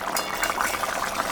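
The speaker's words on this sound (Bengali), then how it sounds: "ঝোলটা ফুটে গেছে" Curry broth thinned with a little water bubbles steadily in a pan before fish is added, a close, continuous simmering burble with faint clinks.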